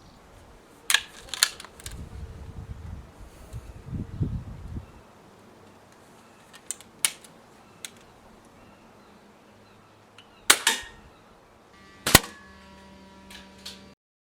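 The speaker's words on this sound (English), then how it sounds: "I'm first going to test the accuracy by firing 10 of those BSA pellets at one of these 14cm square targets at a distance of around 12 metres." A Diana Model 15 air rifle fires BSA pellets at a paper target about 12 metres away. Several sharp, sudden cracks ring out at irregular intervals, with faint clicks and handling noises between shots.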